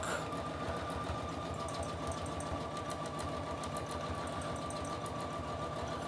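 A sewing machine quilts feather plumes on fabric, its needle chattering in a fast, steady mechanical rhythm that stays close and even throughout.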